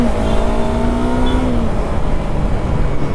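A Yamaha R3 or KTM Duke 390 motorcycle engine accelerating with a steady, rising drone, close and loud, holding a continuous tone for about three seconds.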